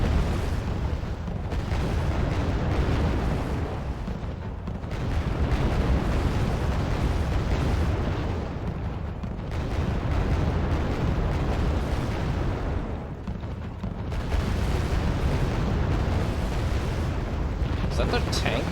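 Continuous rumbling barrage of artillery explosions in the Cold War strategy game Wargame: Red Dragon, dense overlapping booms rolling on for the whole stretch with a voice talking over them at times.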